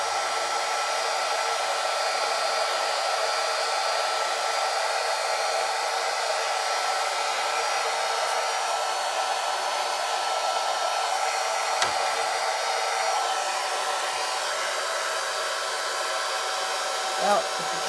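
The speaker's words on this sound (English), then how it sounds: "if you can't take the hairdryer to it, take it to the hairdryer" A hair dryer blows with a steady, even whoosh throughout, close and constant, with no talking.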